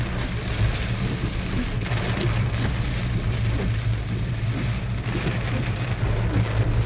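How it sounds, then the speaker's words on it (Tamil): Heavy rain pours down in a dense, continuous hiss over the low rumble of a vehicle driving on a forest road in Karnataka, steady and loud throughout with no voices. "ஏதோ ஒரு பக்கெட் எடுத்து தண்ணி ஊற்றுற மாதிரி அந்த அளவுக்கு ஒரு கடுமையான மழை பொழிவு"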